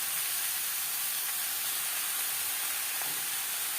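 Bottle gourd is stirred into hot oil with a spice tempering for a fish curry, giving a steady, moderately quiet broadband sizzle and hiss that continues unbroken throughout, with no voices.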